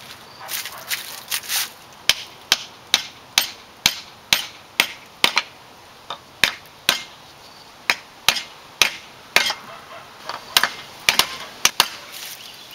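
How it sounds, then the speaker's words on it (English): An axe head being hammered onto its handle with an old wooden stick: sharp, loud knocks in a steady, slightly irregular rhythm, about two dozen blows with short pauses, no talking. "Now we're gonna hammer it on using my old stick."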